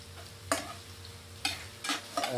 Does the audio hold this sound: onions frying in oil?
yes